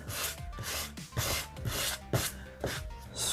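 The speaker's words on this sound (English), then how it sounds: "I typically like to go with the hand sanding in the direction of the grain" Wood is hand-sanded along the grain in short, even back-and-forth strokes, a close, soft rasping that repeats about twice per second with no talk.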